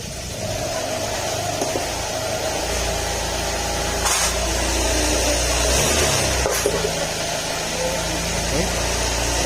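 A Honda Click scooter engine idles steadily after new throttle body work, a continuous mid-pitched hum that swells slightly midway, with brief mechanical clicks and noise from a workshop around it.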